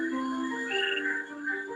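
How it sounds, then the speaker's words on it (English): A chorus of frogs calls all at once, layered high tonal croaks and whistling trills overlapping steadily at close range, loud and continuous with no voices. "the chorus from the other frogs is deafening"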